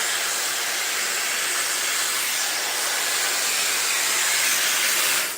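A Shark Glossi dryer brush runs on natural hair with a loud, steady airflow hiss, close and unbroken throughout, with no voices.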